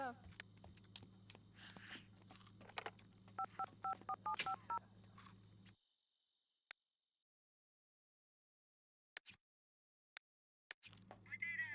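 Telephone keypad beeps ring out in a quick run of tones in The Sims 2 as a character dials, over a steady low game hum with scattered clicks, then a long quiet gap.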